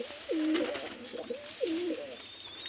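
Caged pigeons give two soft, rolling coos in close succession, fairly quiet and near, against a faint background hum.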